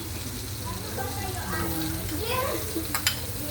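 Onion sizzles steadily in a hot pan while being stirred, a constant frying hiss with faint scraping and a couple of clinks near the end, under quiet background sound.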